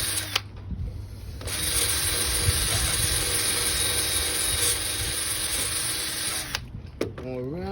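Power sander working on inflatable boat dinghy repair patches, a loud steady buzzing whir running for about five seconds between short pauses, with faint voices around it.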